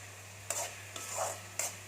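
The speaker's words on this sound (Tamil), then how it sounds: "இப்போ ஒரு ரெண்டு நிமிஷம் தக்காளி நல்லா வதங்கட்டும்" Tomatoes sautéing in a pan for a potato poriyal, heard as three short bursts of sizzling and stirring scrapes over a low steady hum, fairly quiet and close.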